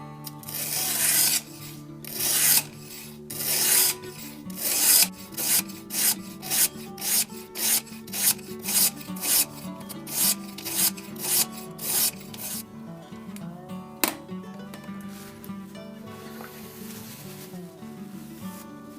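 Knife blade drawn repeatedly across the stones of a RUIXIN Pro fixed-angle sharpener, giving a steady series of short, evenly spaced rasping strokes, close and fairly loud, with no voices.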